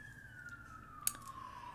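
Emergency vehicle sirens heard from inside an apartment, a faint distant wail sliding steadily downward in pitch, with a brief sharp click partway through.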